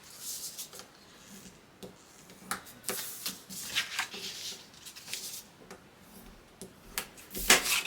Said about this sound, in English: We're going to fold and burnish on all 3 pieces.